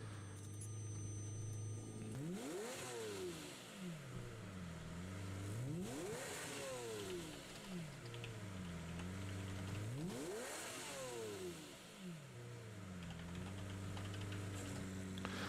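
A Lamborghini's 6.5-liter V12 making 670 horsepower idles, then revs hard three times, each rev climbing sharply and falling back, loud and close with no talking.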